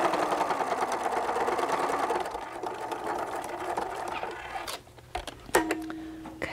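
Sewing machine running a short back stitch while making a zippered fabric pencil case, steady rapid needle patter for several seconds, then stopping, followed by a few small handling clicks.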